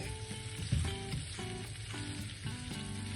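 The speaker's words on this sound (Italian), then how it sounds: "Lascio insaporire per altri 5 minuti e le melanzane sono pronte." Eggplant sizzling steadily in oil in a pan with a basil leaf, a dense continuous frying hiss with a few clinks and scrapes of stirring, close and moderately loud.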